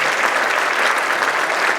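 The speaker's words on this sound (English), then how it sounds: "I want to give them a round of applause." A brief, loud burst of packed applause from a high school winter concert audience for the concert band, an unbroken roar of many hands clapping close by.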